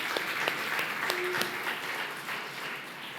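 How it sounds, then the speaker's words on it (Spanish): A church congregation applauds during a Sunday sermon service, a steady, full wash of clapping that holds at an even level through the whole short stretch. "Un aplauso para nuestros ingenieros de sonido,"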